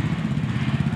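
A motor engine drones close by with a low, throbbing, steady rumble, lasting about a second, like a passing vehicle on a road during a nature-day vacation outing.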